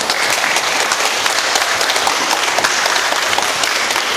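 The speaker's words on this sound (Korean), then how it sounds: "큰 박수로 환영해 주시기 바랍니다." A lecture audience gives steady, loud applause to welcome a professor, many hands clapping evenly throughout with no voices over it.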